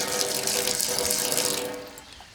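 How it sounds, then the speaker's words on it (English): A faucet runs steadily with a full, even splash of water into a sink, then eases off and fades near the end. "We got running water."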